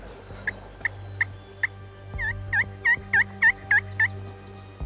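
A run of rapid, rattling wild turkey gobbles repeats in a steady series, fairly close and loud over a low hum of outdoor background noise.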